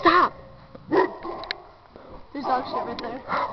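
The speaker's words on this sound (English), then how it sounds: "There's a dog!" Several short dog barks and yips sound nearby, mixed with agitated human talk.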